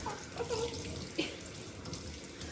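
Tap water pours steadily into a sink during a hair wash, a close, even hiss with small splashes and no talking.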